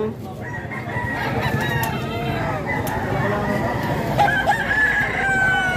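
Fighting roosters at a gamecock market in Padre Garcia, Batangas, crow and cluck repeatedly from several directions, some near and some farther off, mixed with people talking and general market bustle.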